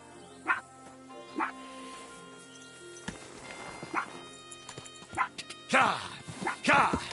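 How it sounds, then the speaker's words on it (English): Dog barks from Kingdom Come: Deliverance II, a few short separate yelps spaced over several seconds, with a person's voice speaking in between and a low game ambience underneath. "You're my doggy, eh?"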